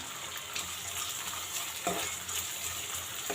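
Finely chopped medium onions with bay leaves fry gently in a pan for chicken masala curry, making a soft, even sizzle with a couple of brief stirring scrapes.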